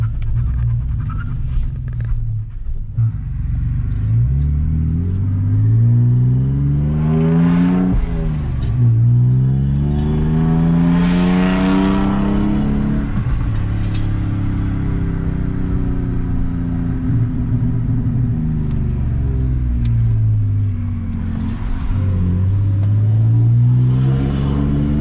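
A junkyard car on a test drive revs its engine loud and close in repeated rising and falling sweeps, climbing in pitch and then dropping back over about twenty-five seconds.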